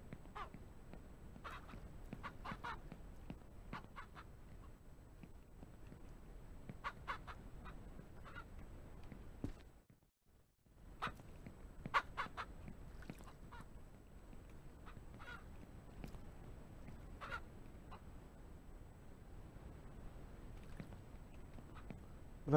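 Poultry clucking and honking inside a coop in the Ranch Simulator farming game, a busy run of short bird calls over steady low ambience, with a brief quiet gap midway.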